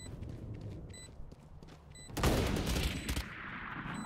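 Gunfire in the video game Valorant, with a sudden loud burst of rapid shots partway through after quieter, muffled in-game ambience and scattered thumps.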